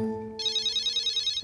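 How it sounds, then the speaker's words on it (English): A toy banana phone rings with a fast, pulsing electronic trill that starts abruptly after a low tone, loud and close, and cuts off after about a second. "The banana phone."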